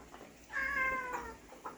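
A cat gives a single drawn-out meow, clear and fairly close, with a shorter faint chirp near the end and quiet surroundings.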